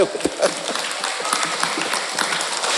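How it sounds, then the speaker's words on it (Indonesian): Audience applause at an Isra' Mi'raj religious gathering, a dense, steady wash of many hands clapping with scattered louder claps, sustained throughout. "Tepuk tangan, tepuk tangan."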